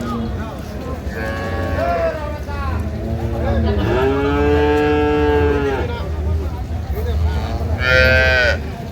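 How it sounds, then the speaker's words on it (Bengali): Dairy cows and calves mooing at a busy cattle market in Ambari, Dinajpur, with several long drawn-out lows near and at middle distance over a crowd murmur, and people talking in the background. "সেই গাভী বাছুর আমরা দেখছিলাম এখানে"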